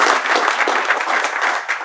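An audience at a North Carolina Democratic Party state chair candidates' forum bursts into brief, dense indoor applause, a steady roar of many hands clapping throughout.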